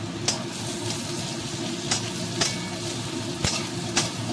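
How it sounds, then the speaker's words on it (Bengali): Potatoes and onions fry together in oil in a pan for a snail curry, a soft, steady sizzle broken by a few sharp clicks of a utensil stirring against the pan. "এবার আমি আলুগুলো দিয়ে নিচ্ছি একসঙ্গে ভাজবো"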